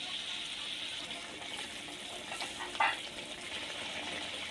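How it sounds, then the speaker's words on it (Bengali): Fish curry gravy for tengra fish bubbling steadily in a pan, a continuous close sizzling hiss with a brief splashing burst near the end as fried fish go in. "ঝোলটা ফুটে গেছে এবার ভেজে রাখা মাছগুলো দিয়ে দেব"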